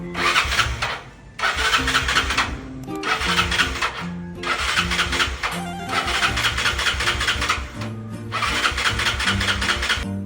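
A long-stored Yamaha Mio scooter with the choke on starts up loud and close. The engine runs in several revving bursts separated by brief dips, with no talking.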